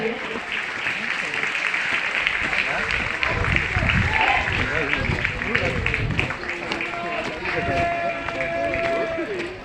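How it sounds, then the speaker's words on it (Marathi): An audience welcoming dignitaries at a school centenary event breaks into loud, dense applause, a sustained roar of many hands with crowd noise and voices mixed in, filling the whole stretch. "आपण जोरदार टाळ्या वाजवून त्यांचं स्वागत करूया"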